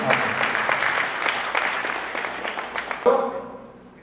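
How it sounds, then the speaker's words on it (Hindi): Audience applause at a cultural function, a dense wash of many hands clapping close and loud, then a sharp knock and the clapping fading out. "बच्चों की जोरदार तालियां के लिए"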